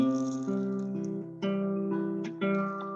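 A fingerpicked acoustic guitar plays a steady pattern, bass notes alternating with higher strings, each new pluck ringing over the last, clear and close.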